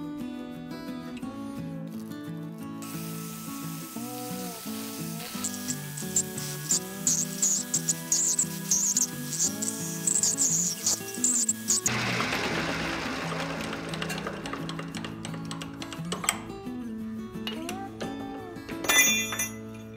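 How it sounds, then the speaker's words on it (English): Lathe trimming a clutch hub for a 420 cc lawnmower engine swap: a steady machine whine under scraping and rubbing of the cutting tool, with occasional metallic clinks and a rougher, louder cutting passage midway. "Now either method requires some trimming on the lathe"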